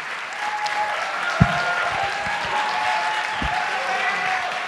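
Audience at a pitch competition applauding, a dense steady wash of clapping that carries on for several seconds with a couple of sharper individual claps standing out.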